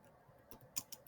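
A few scattered keystrokes on a computer keyboard, quiet and close, with short clicky taps spaced irregularly and no speech.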